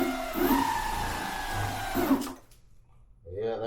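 A LEO Rion Apex electric watercraft motor runs just out of the box with a smooth whirring hum that rises in pitch, holds, then cuts off. Someone speaks briefly afterward.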